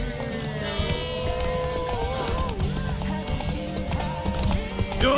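Horse hooves clip-clop at a quick pace in The Witcher 3 while riding through a forest, a steady rhythm running beneath game music and brief character voices throughout.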